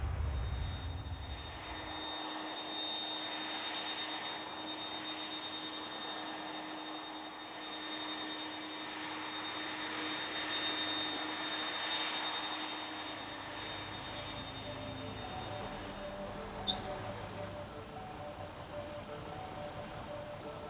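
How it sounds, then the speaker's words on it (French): Engines of an Airbus Beluga cargo aircraft, the world's largest cargo plane, give a faint, distant, continuous jet drone with a thin steady whine, ending in a brief click. "on a affrété le plus grand avion cargo du monde, le Beluga"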